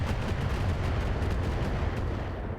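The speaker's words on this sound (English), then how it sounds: "the trebuchet is firing on the hunchback" A trebuchet mech fires in the RogueTech video game, a dense rumbling barrage of low booms rolling continuously for a couple of seconds with no talk.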